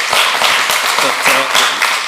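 Brief applause breaks out from the public gallery at a city council meeting, a short burst of clapping with voices talking over it.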